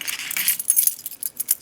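A Swiss Tech Utilikey 6-in-1 keychain multitool jangles on a keyring beside a car key, giving close, bright metallic rattles in quick irregular bursts with no voices.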